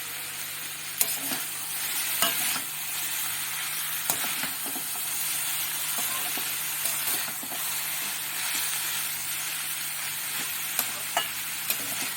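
Spices with chili powder, green chili and cumin powder stirred in a frying pan for a fish and vine-spinach seed curry, a steady close sizzle under intermittent scraping clicks of a spatula, no talking.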